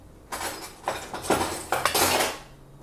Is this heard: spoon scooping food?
yes